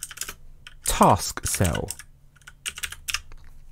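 Quick clicks of keys on a computer keyboard as a command is typed, in short bursts at the start and again near the end, with a brief spoken word in between.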